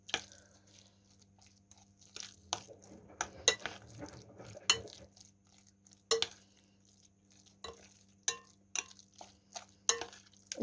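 A spoon or utensil works through a breadcrumb mixture in a bowl, making quiet intermittent scrapes, taps and clinks against the dish at an irregular pace, close by with no talking.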